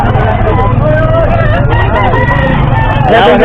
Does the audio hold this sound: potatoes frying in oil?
no